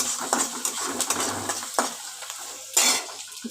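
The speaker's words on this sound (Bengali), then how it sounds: "আদা রসুন বাটা দিয়েও নাড়াচাড়া করছি" Ginger-garlic paste is stirred in a frying pan, with a spoon scraping and clinking against the metal in irregular strokes over a soft, steady sizzle, ending in a louder scrape.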